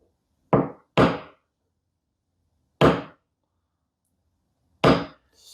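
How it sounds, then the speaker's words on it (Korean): A dent repair punch tool taps out a door ding on a car panel in four sharp, close metallic knocks, two quickly paired and the rest spaced apart, with silence between. "아주 펀치 자세도 좋고 펀치하는 소리도 좋고 강도도 좋은 것 같아요"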